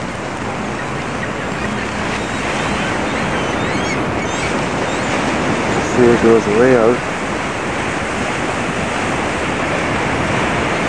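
Steady surf and ocean waves wash on the shore at Myrtle Beach, a constant broad roar mixed with wind buffeting the microphone, while people talk nearby.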